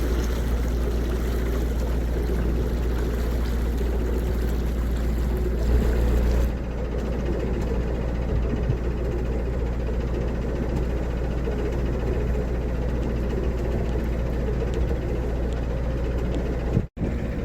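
A boat engine runs steadily while cruising on a canal, a continuous low hum with a slight change in tone partway through and a brief knock near the end.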